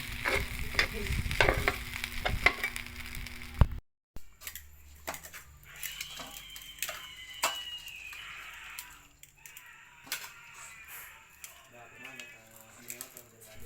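Food sizzling and crackling in a hot pan, with scraping and stirring sounds throughout, close and moderately loud.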